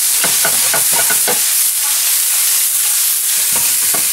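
Mushrooms fry in a pan for a burger with a constant loud sizzle, broken by a quick series of scraping stir strokes early on and two more near the end.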